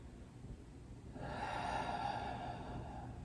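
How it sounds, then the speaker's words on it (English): During a stress-release yoga session, a person takes a slow, audible breath close to the microphone; after a quiet moment, a long, steady airy exhale-like rush swells and holds. "Breathing."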